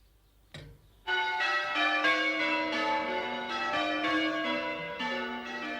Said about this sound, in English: all the bells rang out over the countryside like cannon in battle